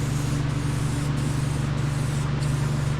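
A can of light blue spray paint hisses in four short bursts, each a close, steady spray separated by brief gaps, over a low constant hum in a garage shop.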